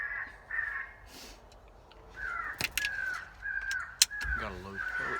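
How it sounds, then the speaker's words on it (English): Electronic crow caller playing crow fight calls, harsh repeated caws in uneven bursts, some overlapping and fairly close, with a few sharp clicks and a brief low thump near the end. "Go ahead and switch it to crow fight."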